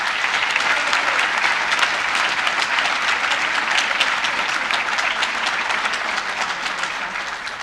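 A large audience applauds at the Goeppinger school awards ceremony, a dense, steady wash of many hands clapping together that holds evenly for several seconds before easing slightly at the end.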